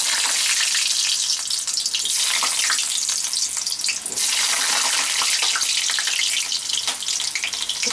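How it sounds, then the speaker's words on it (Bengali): Potato pieces frying in hot mustard oil with salt and turmeric, a dense, steady hiss and sizzle, close and loud throughout with no talking. "এবার আমি যে আলুটা নিয়েছিলাম, আলুটা ভেজে নেব।"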